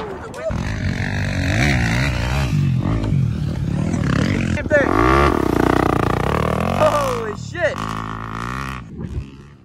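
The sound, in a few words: motorcycle engine revving, 250 dirt bike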